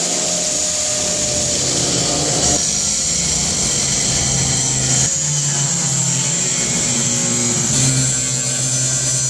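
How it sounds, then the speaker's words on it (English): A grinding wheel cuts through the frame of a handmade International pickup truck for a C-notch. It makes a loud, continuous whining roar with a few slight shifts in pitch and load, and no one speaks. "So let me get out the grinding wheel. We're gonna cut the bottoms first"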